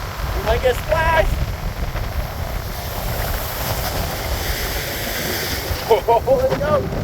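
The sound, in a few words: ocean waves crashing during nor'easter storm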